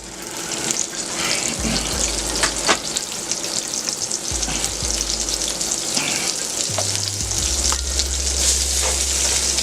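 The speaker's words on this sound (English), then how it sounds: "With all the little bits of goodness that are in the pan there, I'm just going to throw in my onions." Chopped onions sizzle and fry in a hot pan with browned drippings left from cubed steak, a steady crackling hiss with occasional scraping stirs, close and continuous without talk.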